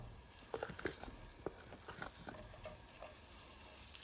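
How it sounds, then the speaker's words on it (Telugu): Onions and capsicum fry in ghee in a pan over high flame, making a faint, soft sizzle punctuated by light scraping taps of stirring, quiet and close with no voices. "వీటిని హై ఫ్లేమ్లో 1 నిమిషం వేగనివ్వండి"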